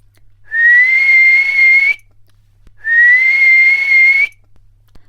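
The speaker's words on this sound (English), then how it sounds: "she blew her silver whistle twice" A shrill silver whistle blown twice, each blast long and steady with a slight rising pitch, separated by a short silence.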